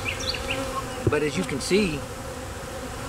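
Bees hum with a steady buzz around a hive after a vertical split. The drone runs continuously beneath a man's brief speech.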